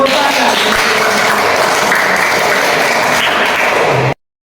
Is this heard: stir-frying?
no